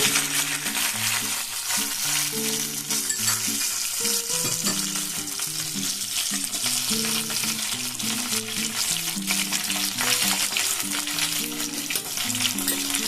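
Whole bay leaves, cloves, cardamom and cinnamon fry in hot oil for pulao, a steady close sizzle running throughout with no talking, while strong tonal music plays over it.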